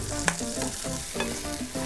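Chorizo sizzles loudly in a pan with onion, the constant close frying hiss punctuated by rhythmic scraping stirs and a sharp clink early on.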